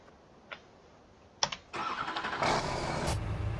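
A tractor engine cranks and catches in Farming Simulator 17 after a few clicks, then settles into a steady mid-pitched idle with a slight rise in revs, no talking.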